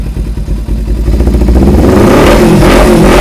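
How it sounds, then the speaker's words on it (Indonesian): A Kawasaki Ninja 250 motorcycle, a yellow 250 cc bike, revs loudly up close, its engine and exhaust climbing from a choppy idle into a sustained, rising roar over about three seconds. "Suara mesin seperti ini."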